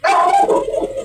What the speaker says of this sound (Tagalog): Naging maingay na naman po yung mga aso dito.